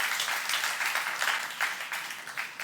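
A church youth-service congregation claps steadily in a soft, dense wash of applause, heard at a distance and rather quiet.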